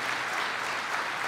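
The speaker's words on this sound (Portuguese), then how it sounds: "Aplauda mesmo ao Senhor, aplauda mesmo a palavra de Deus" A church congregation at a Sunday service applauds in an even, continuous wash of clapping, heard alone at moderate volume throughout the short stretch.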